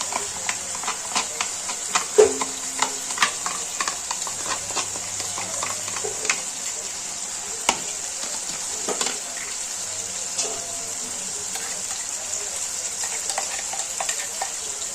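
Ground masala paste fries in a pan for mutton gravy, a soft continuous sizzle with scattered crackles and light scraping stirs throughout, fairly quiet and without talk.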